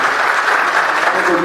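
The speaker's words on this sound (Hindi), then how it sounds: "एक बार उनके लिए भी तालियां बजाएं" Audience at a Hindi hasya kavi sammelan comedy poetry gathering claps steadily, a dense, loud burst of applause filling the hall for the whole moment.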